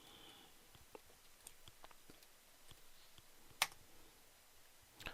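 Faint, scattered clicks of typing on a computer keyboard, several light keystrokes spread across a quiet room with one sharper tap near the end.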